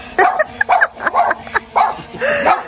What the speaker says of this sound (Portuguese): Esse cachorro tá surtando.